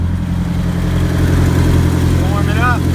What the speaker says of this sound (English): You can hear the exhaust leak down there.